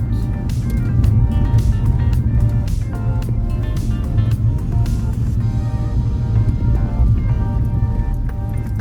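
A car drives through Bridgeport, Jamaica, its engine humming steadily up close over a continuous road drone, with music or tonal sound layered on top.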